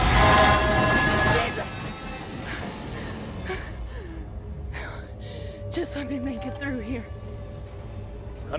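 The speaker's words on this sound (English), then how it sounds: "Runaway train." A runaway train in the video game Alien Isolation rumbles and clanks, with metallic screeches and bursts of noise, under a person talking and gasping.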